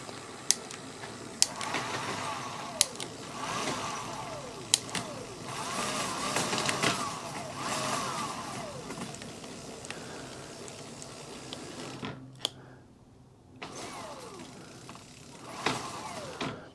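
Home-built electric bike hub motor whining under light throttle, a steady mechanical drone with faint clicks, dropping out briefly near the end before resuming.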